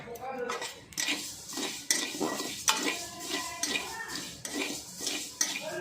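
Mustard seeds dry-roasted in a kadai, with repeated metallic scrapes and clinks as they are stirred, in a steady rhythm of sharp strokes about once a second, fairly close and moderately loud.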